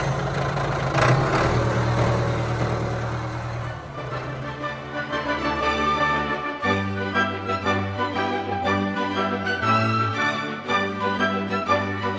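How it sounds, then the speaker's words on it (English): An engine turns over and settles into a low idle, then rumbles steadily with slight revs as it pulls away slowly. "you can turn the engine on and start moving forward slowly"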